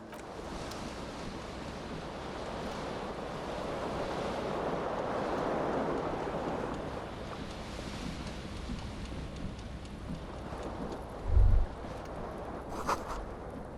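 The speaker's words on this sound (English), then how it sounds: "The cool wind gushes in." Cool wind gushing steadily through a smashed window in the video game Disco Elysium, a broad continuous rush that swells in the middle and eases off, with a brief low thump near the end.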